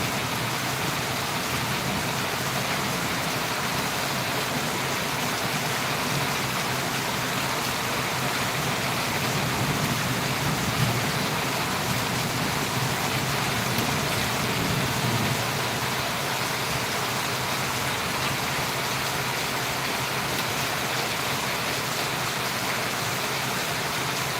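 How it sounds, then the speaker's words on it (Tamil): Rain falling in Valliyur, a little lighter than before, as a continuous even hiss of drops, with a soft low rumble swelling briefly near the middle; no voices. "மொதல் இருந்ததை விட கொஞ்சம் ஸ்லோவாக இருக்குது ஆனாலும் இடி இடிச்சிட்டு இருக்குது"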